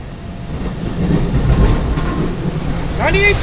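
Long Island Rail Road EMU electric train rolling into the Ronkonkoma yard, a steady low rumble with faint clatter and a brief wheel squeal near the end.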